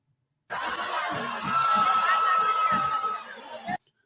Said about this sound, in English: So this is a lot of the crowd outside.